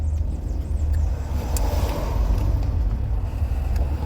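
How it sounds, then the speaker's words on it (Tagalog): Low, steady rumble of road traffic on Eastern Main Road, heard from within or beside a slow-moving vehicle, with faint clicks and light wind noise and no talk. "Ay, traffic na naman dito sa Eastern Main Road."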